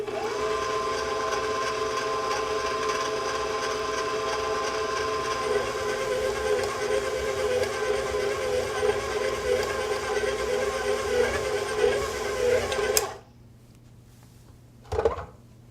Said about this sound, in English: turn the mixer on to a slow speed and mix for 4 minutes before switching to a high speed for an additional 4